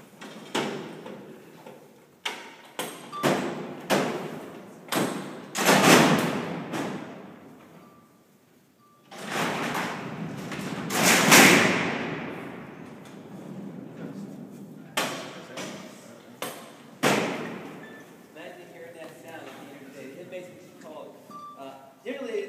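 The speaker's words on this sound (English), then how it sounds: "So we're going to shut the doors." Heavy steel cell doors at Alcatraz prison slam shut in a series of loud, sharp clanging impacts, some ringing briefly, with people talking between the slams.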